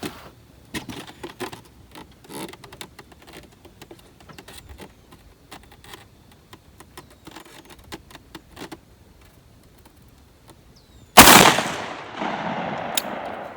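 A 10 gauge shotgun fires a single loud sabot slug shot on an outdoor range at 42 yards. Quiet rustling and handling come first, then one sharp close blast with a lingering echo.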